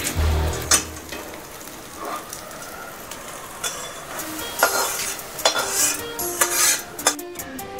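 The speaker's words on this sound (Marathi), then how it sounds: "आता आपण ते एका वेगळ्या प्लेटमध्ये काढून घेऊया।" A metal utensil scrapes and taps against a pan in a series of sharp clinks and scoops, lifting fried egg onto a plate, with a faint sizzle underneath.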